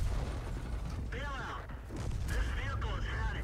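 A self-propelled artillery tank gun fires a shell in a tank battle game. Sharp mechanical clanks and blasts come amid whooshing, warbling effects, with a voice talking over parts of it.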